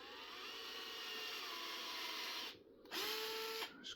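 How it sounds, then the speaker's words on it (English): A power drill bores holes into a Sledgehammer belted tire to make way for ice studs, whirring steadily up close, then stopping briefly and restarting with a short burst before cutting off. "First I start to drill hole for them first."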